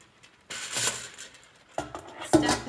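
Ball bearings being poured into a pizza pan with a cake pan glued at its center: two loud metallic rattling cascades of rolling, clinking steel balls, close and clear, with no voice.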